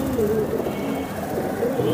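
Giribaj high-flyer pigeons coo continuously nearby, a low rolling throaty drone with repeated rising calls, fairly loud and unbroken, without speech over it.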